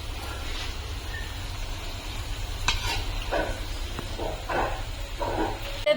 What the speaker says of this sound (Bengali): সর্ষে বাটাটা এখানে এখন ঢেলে দেবে